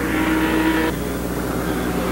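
A 1960s–70s Can-Am race car roars during a vintage race, a loud high-revving engine note that drops abruptly midway, then fades into a lower, steady hum.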